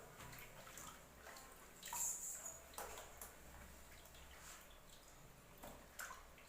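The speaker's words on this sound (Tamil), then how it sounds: "மஞ்சள் உப்பு போட்டு கழுவி மஞ்சள் உப்பு போட்டு கழுவணும்" Goat lung being washed by hand in water with turmeric and salt, a faint, close sloshing and splashing with a few soft drips and clinks of the bowl.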